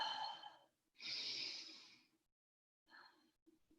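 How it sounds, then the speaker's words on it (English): A long breath is taken during a yoga exercise: a close, airy inhale, then a longer, stronger exhale. A short, softer breath follows after a brief pause, with no talking. "Long breath."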